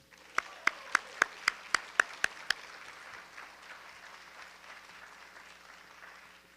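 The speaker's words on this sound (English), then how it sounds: "let's give a big round of applause for Ms." Applause for a city council president at a Warren neighborhood meeting: several sharp, loud close claps ring out first, then a softer spread of clapping from the room fades gradually.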